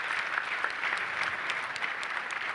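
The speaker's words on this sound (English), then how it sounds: "Round of applause for Natasha." An audience at a charity foundation dinner gives a round of applause: steady, moderately quiet clapping from many hands in a hall, with individual claps flickering through the even wash.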